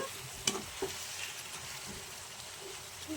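Onions frying in a pan for egg curry give a faint, steady sizzle, with a couple of soft clinks and stirring scrapes early on.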